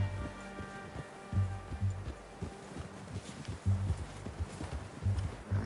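Horse hooves in Red Dead Redemption clip-clop at a steady walking pace, evenly spaced thuds on a hard surface, fairly close, with a faint background hum.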